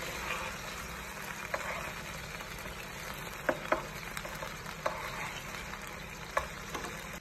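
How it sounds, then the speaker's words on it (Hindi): Beef seekh kebabs fry in oil in a pan. A steady sizzle runs throughout, broken by a few sharp pops and crackles. "कबाब हमारे फ्राई हो चुके हैं"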